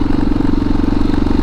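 A motorcycle engine runs on a mountain road in Georgia, a loud, close, steady pulsing throb with no voices over it.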